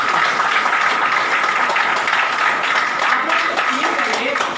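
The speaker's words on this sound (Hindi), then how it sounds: "एक बार इन दोनों के लिए जोरदार ताली" Audience at a crowded indoor gathering applauding loudly, a dense, continuous roar of many hands clapping that stays steady throughout, with voices mixed in.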